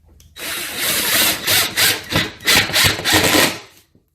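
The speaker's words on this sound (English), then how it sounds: "insert your H8 screw into your bracket and your side panel." A screw is driven with a power drill through a metal bracket into the side panel of a foosball table, a loud buzzing whir broken into several short bursts over about three seconds.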